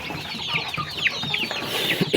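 Native chicks cluck and peep busily at feeding time, many small high chirps overlapping in a close, continuous chatter with no talking.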